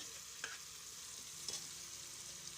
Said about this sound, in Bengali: মাংসটা দিয়ে এটাকে ভালো করে নেড়ে চেড়ে কিছুক্ষণ কষিয়ে নেব